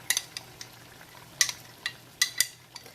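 A spoon stirring yogurt and masala into a pot of Bombay-style Pakistani chicken biryani, giving several short, sharp scraping clinks at irregular intervals over a faint sizzle, close and fairly quiet.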